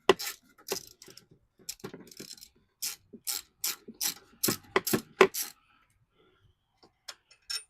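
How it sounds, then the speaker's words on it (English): A ratchet wrench clicks in short, sharp bursts of quick pawl ticks, close and distinct with pauses between strokes, while throttle cables are changed on a 2006 Harley-Davidson Ultra Classic motorcycle. "Ratchet again."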